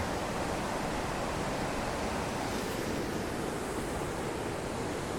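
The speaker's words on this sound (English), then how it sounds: "There's a river coming." Steady, loud rush of a river flowing under a bridge near Anini, Arunachal Pradesh, India, filling the whole clip, a constant broadband roar with no pauses or voices.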